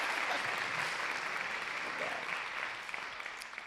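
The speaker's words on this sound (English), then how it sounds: "So at least 2 of our virtual award winners got some in-person applause" In-person applause for award winners at an inspiring women evening event at the Isabel, a broad wash of clapping from a room audience that tapers slightly toward the end.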